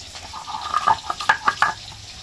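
Fish frying in oil until crisp, heard as a wet bubbling spatter with a series of louder pops and crackles in the middle, fairly close and without talk.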